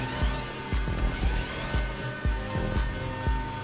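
A GTA Online race car's V engine, heard on hotlaps around Monaco, revs in quick rhythmic pulses with steady droning harmonics, moderately loud and without talk.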